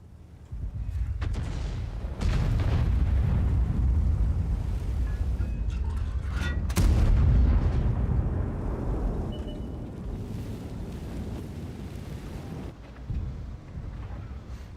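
A tank cannon fires in World of Tanks with heavy booming reports and long rumbling decays, loud shots standing out over a constant low engine drone.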